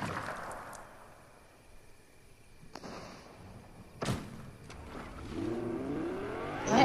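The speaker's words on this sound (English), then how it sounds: "I have 10 fuel left in this car." A car in the video game Fortnite drives along with a low engine hum, broken by a sharp thud or slam partway through, then the engine revs up louder near the end, with no talking.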